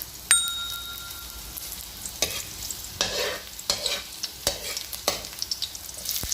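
Garlic sizzles in hot oil in a pan for spicy pancit, giving a soft, steady frying hiss. A metal ding rings once early on, then a run of spatula scrapes and taps, close and irregular, with no talk.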